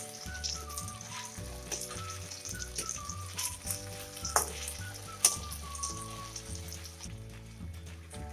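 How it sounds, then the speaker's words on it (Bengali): Split pea fritters frying in hot oil, a steady crackling sizzle with small pops and spatters, with soft music in the background and no voices. "দুটো পাশ খুব ভালোভাবে ভেজে তুলে নিতে হবে"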